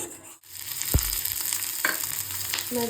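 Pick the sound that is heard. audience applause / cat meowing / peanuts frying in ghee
peanuts frying in ghee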